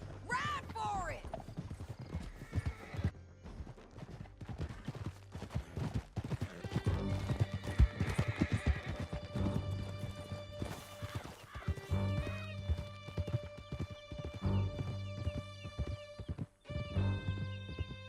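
Horses gallop through a canyon in Red Dead Redemption 2, hooves clattering in a fast rhythm with sharp neighs and whinnies, under game music and occasional voices.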